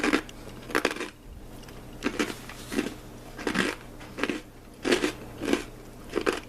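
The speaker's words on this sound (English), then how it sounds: "Sorry for crunching in your ear, people." Close, loud crunching bites of toasty bread eaten with linguiça and chickpeas, a regular series of about ten crisp chewing crunches over a low steady hum, with no talking.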